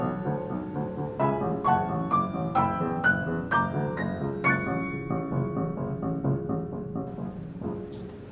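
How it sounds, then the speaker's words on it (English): Orchestral passage from the card scene of Puccini's opera La fanciulla del West, with double basses driving rapid sixteenth notes beneath sustained strings and repeated accented chords, steady and full throughout, no voices. "My heart was beating like the double basses in the card scene, where there are rapid 16th notes"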